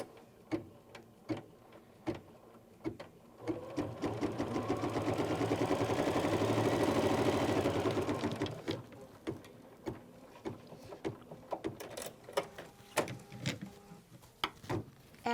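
An embroidery sewing machine stitches a quilt square in the hoop, a steady mechanical whir rising and fading over several seconds, framed by sparse ticking and clicks before and after.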